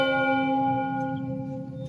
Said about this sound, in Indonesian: Mungkin suara lonceng itu berasal dari gunung yang ada di sebelah kiri sana itu